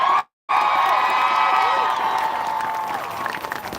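A large crowd at the Houston Women's March rally cheers and whoops steadily, a dense continuous roar of voices after a brief gap, holding loud throughout.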